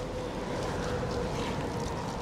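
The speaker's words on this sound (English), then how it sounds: "It's a cold, windy morning." Steady wind on a cold morning roaring and buffeting the microphone, a constant broadband rush with no pauses.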